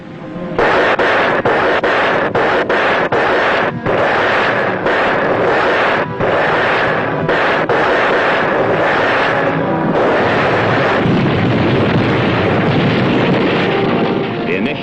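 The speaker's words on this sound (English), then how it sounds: "Rocket assault was highly successful, leaving the city of Shari badly damaged" Submarine rocket barrage of twelve 5-inch rockets striking a city, a dense roar of rapid blasts and rumbling explosions that continues loud and unbroken.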